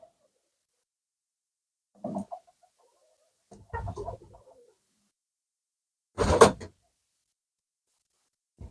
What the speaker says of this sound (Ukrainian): Зараз подивимося, чи є ще якісь голуби у гніздечку.